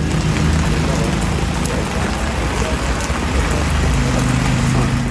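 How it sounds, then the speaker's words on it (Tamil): Steady drizzle falling in the Kodaikanal hills amid thick fog, a dense, continuous hiss of rain with a low rumble of passing vehicles underneath, loud and unbroken throughout. "அடர்ந்த பனி மூட்டத்துடன் கூடிய சாரல் மழை பெய்தது"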